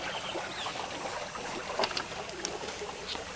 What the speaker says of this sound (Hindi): ये पानी यहाँ से निकलना शुरू हो जाता है